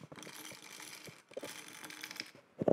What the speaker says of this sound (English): first thing we need to do is grind our beans. For that, I'll be using the Comandante set to a pretty coarse grind for a cold brew